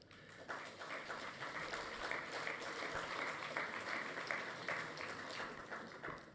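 Audience applause at a political speech by François Bayrou, a dense, steady wash of many clapping hands that fades in and holds from a moderate distance.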